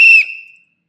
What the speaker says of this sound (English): you deserve a whistle blown.